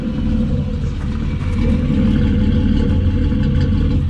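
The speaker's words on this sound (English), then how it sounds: "Okay guys, the car is running right now, as you can hear." A BMW E28 with a swapped-in M50 engine, running rich, idles close by: a loud, steady low rumble with a slightly uneven, burbling texture that swells a little midway, with no talk over it.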